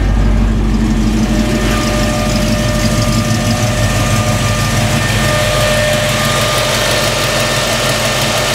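A car engine idles with the air conditioning blower on, a steady, loud, low hum with a constant fan whoosh, unbroken throughout.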